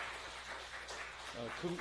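Soft applause from church members welcoming newcomers at a 33rd-anniversary church gathering, a brief faint patter of clapping with a voice starting to speak near the end.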